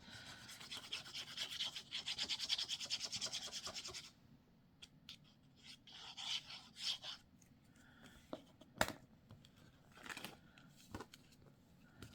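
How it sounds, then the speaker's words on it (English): Glue spread across paper for a hidden paperclip craft, a steady close rubbing and scraping for about four seconds, then quieter intermittent dabs and scratches with pauses, no talking. "I'm going to put glue all over this top section"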